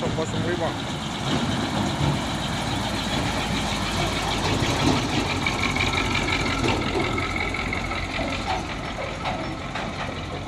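A Fuso Super Grid container trailer truck engine rumbles and idles loudly nearby, a deep continuous drone with clattering knocks and faint traffic noise around it.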